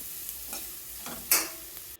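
A spoon stirs spices, masala powder, sugar and salt into mint rice in a hot pan, giving soft scraping strokes over a light sizzle, with one brighter scrape near the end.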